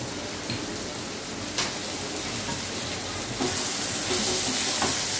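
Paneer cubes sizzle in a hot pan for chilli paneer, a steady crackling fry with no one talking that swells slightly louder toward the end.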